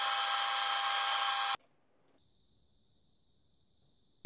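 Metal lathe cutting steel rod stock and parting it off into nuts in a home workshop: a loud, steady high-pitched machining whine for about a second and a half, then a quiet stretch with a faint thin tone before the noise returns.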